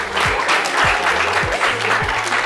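Audience applause at a college youth talk event, loud and dense clapping from a crowd filling the whole moment, with a faint rhythmic low thump beneath it.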